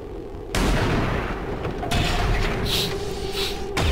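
A few loud, booming weapon shots go off in a tactical strategy video game, with sharp onsets followed by rumbling tails and mechanical clatter in between.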